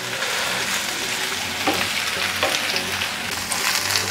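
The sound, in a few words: sausages and shallots stir-frying in pan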